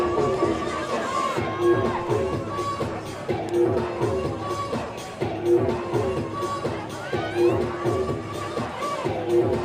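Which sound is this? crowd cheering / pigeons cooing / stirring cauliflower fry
crowd cheering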